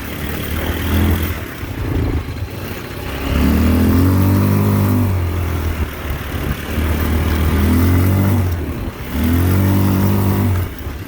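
A Linhai Z180 buggy engine revs in repeated surges, rising from a rough idle to a loud, close roar and falling back, about three times in succession with no talk.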